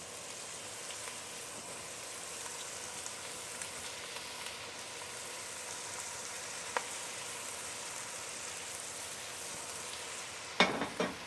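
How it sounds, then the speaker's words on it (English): Ground beef sizzles in a hot pan as a steady, soft crackling hiss, with a few light pops and a louder clatter of stirring near the end, no one talking. "You can hear it sizzling already."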